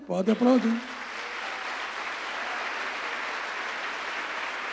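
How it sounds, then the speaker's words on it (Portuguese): A church congregation breaks into steady applause after a short spoken phrase at the start, the clapping sustained and even as a broad wash that fills the rest of the space. "Pode aplaudir."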